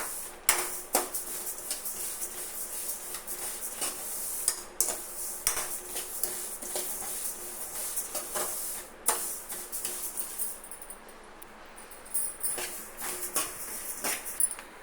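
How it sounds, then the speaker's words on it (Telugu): Laddu ingredients dry-roast in a pan with no ghee, stirred with rapid, irregular scraping and rattling clicks as the pieces tumble against the metal, close and continuous. "ఇట్లా నెయ్యి వేయకుండా వేపించాలమ్మా ఇవి కొంచెం లైట్గా వేగితే సరిపోతాయి"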